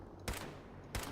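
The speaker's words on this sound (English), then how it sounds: "I'll waste a couple more bullets" Two sharp gunshots in a video game, spaced about two-thirds of a second apart, quiet overall and with no talking.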